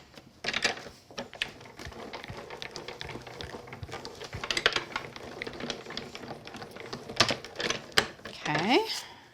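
Card stock cranking through a manual die-cutting machine while crafting a baby shadow box card, irregular ratcheting clicks and mechanical clunks, close and fairly quiet, with someone talking.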